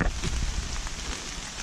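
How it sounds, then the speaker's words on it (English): Steady rain falls in a wet, misty Vermont forest on the Appalachian Trail, a dense continuous patter with no voices. "it is wet and damp and rainy out here."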